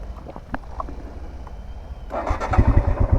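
A geared motorcycle engine cranks and catches about two-thirds through, settling into a close, throbbing idle after some quiet mechanical clicks.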